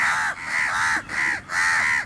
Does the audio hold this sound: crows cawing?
yes